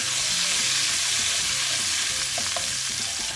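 Tomato puree sizzling in a hot pan alongside steak for carne alla pizzaiola, a steady close frying hiss with faint stirring scrapes throughout, no voices.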